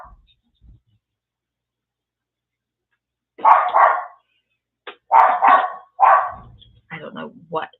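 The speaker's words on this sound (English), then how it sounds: "I don't know what is driving the dog so crazy." After a quiet stretch, a dog barks in a series of sharp, close barks, some in quick pairs, spread over the last few seconds.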